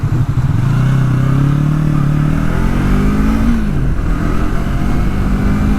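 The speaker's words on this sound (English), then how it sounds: "So yeah, wind noise" Continuous loud wind roar buffets a rider on a motorcycle at speed, with the engine's low drone rising and falling underneath, no voices heard.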